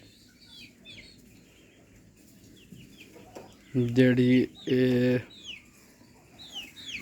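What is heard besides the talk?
Aseel chickens clucking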